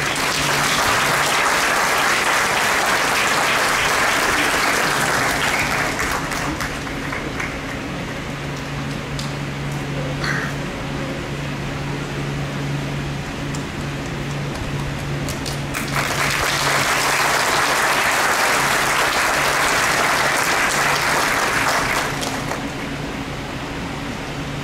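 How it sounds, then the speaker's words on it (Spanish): Audience applause at a symphonic opera concert, a loud sustained ovation that swells, eases to a lower murmur mid-way, then surges again over a steady low hum in the hall. "Con ustedes, aplausos para la noche de la ópera civil"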